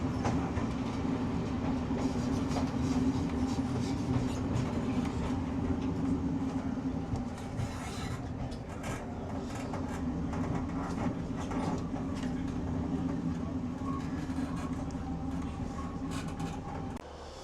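A Scotrail Class 156 diesel train runs steadily on rails between Kilmarnock and Ayr, a continuous interior rumble with rhythmic clickety-clack joints heard throughout.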